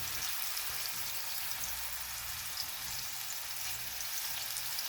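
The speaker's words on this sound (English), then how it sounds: "these babies are gonna just fry up here" Meatballs fry in oil in a Starfrit copper non-stick pan, giving a steady, dense sizzle with faint crackles and pops, continuous and close, with no talking.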